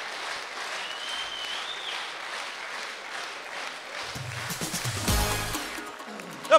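A crowd applauds at a wedding celebration in Osh, a continuous wash of clapping that holds steady and then thickens with a few louder bursts toward the end.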